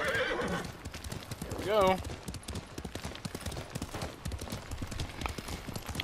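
Hooves clip-clop rhythmically from a galloping horse in the video game Ghost of Tsushima, and a whinny breaks in partway through. Someone talks over the hoofbeats.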